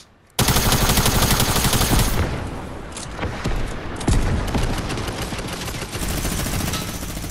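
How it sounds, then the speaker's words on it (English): Gunfire in Fortnite: loud, sustained automatic fire rattles almost nonstop for seven seconds, with dense rapid shots layered over each other and a few sharper, heavier reports standing out. "Be careful, other guys shooting at you!"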